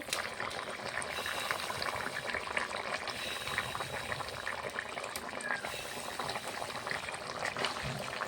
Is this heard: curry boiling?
yes